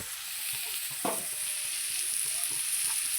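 Vangibath masala fries in a pan, a steady bright sizzle with soft scraping strokes of a spoon stirring it, close and fairly quiet, no voices.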